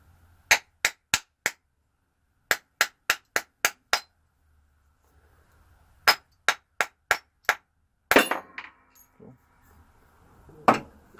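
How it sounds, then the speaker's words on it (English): A hammer strikes a self-centering coin ring punch, sharp metallic clinks arriving in quick groups of four or five with pauses between, followed by a few rougher knocks and rattles. "And then use the hammer to pop it out."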